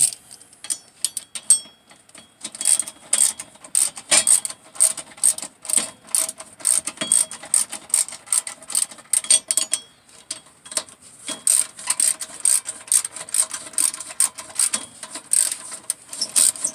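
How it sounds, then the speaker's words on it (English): A ratchet tightens the wheel bearing bolts on a 2009 Scion xB with rear disc brakes, giving a steady run of quick, close, crisp clicks that pause briefly and then resume. "Now we'll just tighten all these bolts back on."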